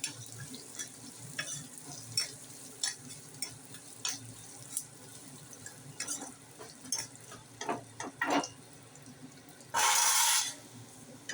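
Vegetables sauté in hot oil in a pan, a low crackling sizzle broken by frequent scraping stirs, then a short burst of running water near the end.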